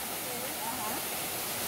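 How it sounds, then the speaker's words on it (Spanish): A waterfall after overnight rain, its murky water cascading in a steady broadband rush that fills the whole clip, with faint voices audible underneath. "¡Qué hermosa cascada la que hay acá el día de hoy!"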